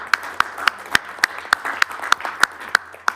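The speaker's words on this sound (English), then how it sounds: "I think we all deserve a round of applause for this." A few people clapping at a county board meeting, sparse and distinct claps in a slow, regular rhythm, fairly close in a quiet room.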